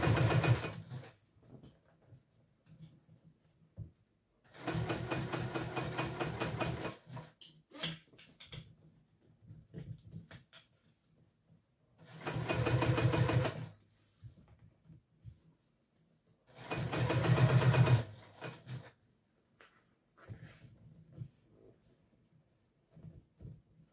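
A sewing machine top stitches a T-shirt garment in three bursts of fast, steady whirring, each a couple of seconds long, separated by quiet pauses with small handling noises.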